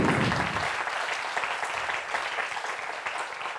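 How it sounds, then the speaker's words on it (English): Conference audience applauding, a dense wash of many hands clapping at once, steady and moderately loud, with no voices over it. "an applause, please."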